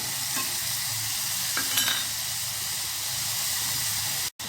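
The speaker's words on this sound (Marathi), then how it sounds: "व्यवस्थित कांदा परतून घेणार" Onion sautés in a hot pan with a continuous close sizzle, broken by brief stirring scrapes partway through.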